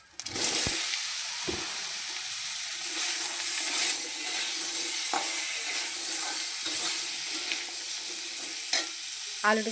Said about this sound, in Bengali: আর গোটা জিরে ফোড়ন দিয়ে রান্না করব